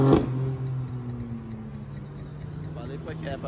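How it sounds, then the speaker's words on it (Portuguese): A low V12 supercar engine drone hums steadily after a brief loud burst at the start, settling into a sustained idle-like tone at moderate volume, in the early morning. "Ótimo dia pra vocês escutar um V12"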